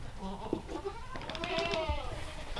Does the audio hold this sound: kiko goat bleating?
yes